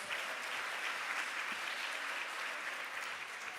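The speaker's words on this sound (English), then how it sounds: "Can we give her another round of applause?" A round of applause from the audience at a midwifery, obstetric, neonatal and child health conference: dense, even clapping throughout, fairly quiet and steady, with no voices.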